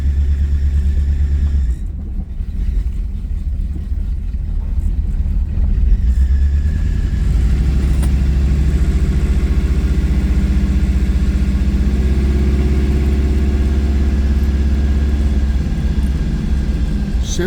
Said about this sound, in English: It's got a little bit of an exhaust leak.